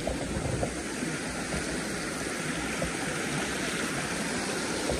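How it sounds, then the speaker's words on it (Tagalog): Stream water rushes steadily near a small waterfall at San Fernando Laur Falls, a continuous broadband wash that stays fairly loud and even throughout. "Wala, nalakas na ng agos dito."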